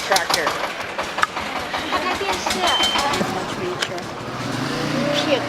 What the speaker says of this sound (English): Okay, hold on for this tractor.